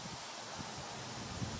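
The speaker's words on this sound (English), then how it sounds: "You can see that wind" Wind blows outdoors as a steady broadband rush with a low rumble of gusts against the microphone, close and continuous, with no voices.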